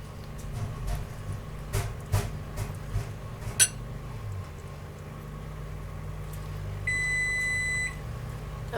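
A preheated oven's electronic beep sounds near the end, a steady tone lasting about a second, following some quiet kitchen handling noises with light knocks.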